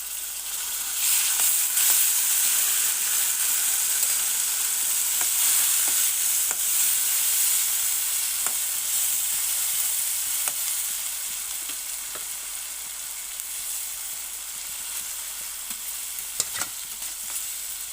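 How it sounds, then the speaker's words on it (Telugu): Onions and ginger paste sizzle and fry in a pan for chicken curry, a continuous bright hiss broken by occasional scraping clicks of stirring, close and with no voices. "బ్రౌన్ కలర్లో వేగాయి కదండి ఆనియన్స్. అప్పుడు అల్లం పేస్ట్ యాడ్ చేశాను"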